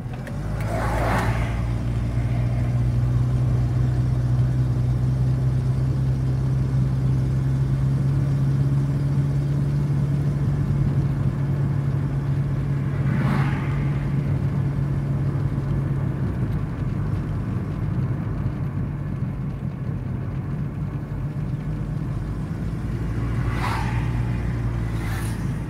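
Bus engine on a rural road, a steady mid-pitched hum that rises as the vehicle draws near, with a few faint passing whooshes over the continuous drone.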